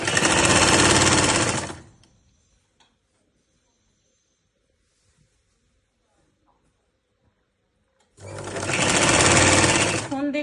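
A sewing machine stitches a sleeve onto a kameez shirt in two short, loud bursts of fast whirring at the start and end, with near silence between them.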